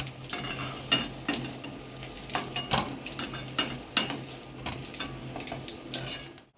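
A spatula lifts a fried egg from a frying pan while oil sizzles steadily, with scattered sharp metal scrapes and clinks against the pan throughout.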